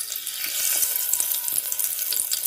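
Whole cinnamon, cardamom and cloves dropped into hot oil for tempering, giving a steady close hiss and crackle of frying that carries throughout, with no voices.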